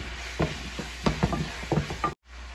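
Ginger garlic paste sautéing in a pan, a few short spoon scrapes and taps over a steady hiss of frying, close, ending in a brief cut to silence.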